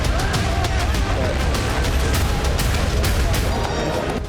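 Bombing and explosions striking buildings in Gaza, a dense, continuous rumble of blasts with sharp cracks of gunfire throughout, loud and close.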